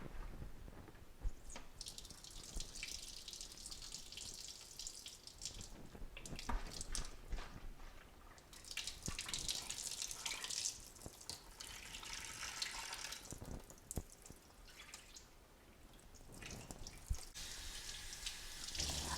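Soapy water runs from a Berkey water filter's spigot into a sink, a close, splashing stream that surges and eases as the flow changes, with drips along the way.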